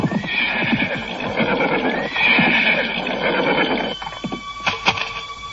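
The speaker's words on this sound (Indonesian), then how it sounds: "Siapa itu yang berkuda menuju jalan ini?" A horse ridden along a road whinnies and neighs loudly, with steady clip-clop hoofbeats underneath and sharp bell-like tones near the end, all close and without speech.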